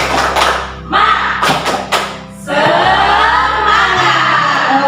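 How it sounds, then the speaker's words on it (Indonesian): Primary school teachers doing a rhythmic group clapping chant during a discussion session, loud claps in patterned bursts mixed with voices calling out together, some shouting in unison. "Tepuk semangat"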